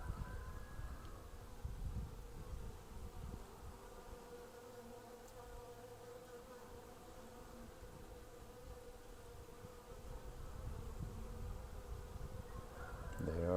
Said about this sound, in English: There's the honeybee window.